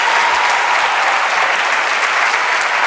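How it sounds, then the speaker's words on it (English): An audience at an interview event at the New York Public Library breaks into loud, sustained applause, a dense, even roar of many clapping hands close by. "Give them a big round of applause."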